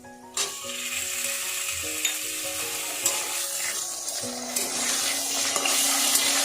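Tomatoes drop into potatoes frying in oil seasoned with cumin and a bay leaf, setting off a sudden burst of loud sizzling that keeps going, with a few utensil clinks and a faint steady tone in the background, no speech.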